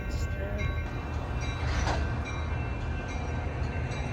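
A Metra commuter train pulls away from the station, a steady loud rumble of rail noise with squealing wheels and metallic clatter, close by.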